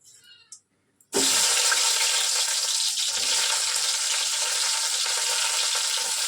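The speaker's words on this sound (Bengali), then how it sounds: "এ দেখো পেঁয়াজ লঙ্কা দিয়ে দিচ্ছি" Onion and green chilli hit a hot pan after a short quiet moment, bursting into a loud, steady sizzling hiss that carries on close up without talk.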